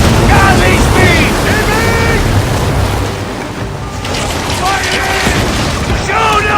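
Booming cannon blasts and explosions from a galley naval battle in Assassin's Creed Origins, loud and continuous over rushing water and surf, with voices shouting throughout.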